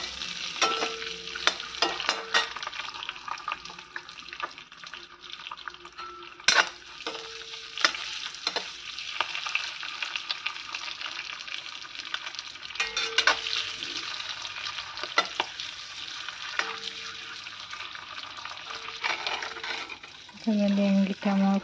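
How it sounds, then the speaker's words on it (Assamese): Eggs frying in oil in a pan, a steady close sizzle with occasional scraping and clinks of a utensil against the pan. "এইফালে এইখিনি তেলতে মই ডিমকেইটা ফ্ৰাই কৰি লওঁ ধুনীয়াকৈ।"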